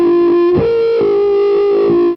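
Electro Faustus Astral Whip vacuum hose pedal with the hose spun in circles through a guitar amp, a loud sustained distorted whistling tone that wavers and shifts pitch with each rotation, then cuts off abruptly.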